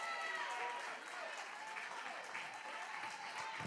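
A church congregation claps together in a sustained burst of applause, dense and lively with crowd noise mixed in, holding steady for a few seconds.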